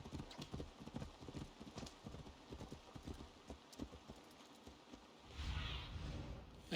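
A horse's hooves clip-clop steadily in the video game Assassin's Creed Valhalla, a quick rhythmic trot that is faint and distant, shifting into a louder rumbling gallop near the end.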